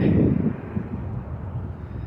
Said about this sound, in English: The wind is kind of breezy, and it's got a bite to it.